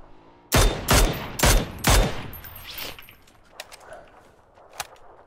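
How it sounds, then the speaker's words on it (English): Gunfire in the battle royale game PUBG: four loud, rapid shots in quick succession, then a scatter of fainter, more distant shots over a quieter background. "Who's shooting from over here,"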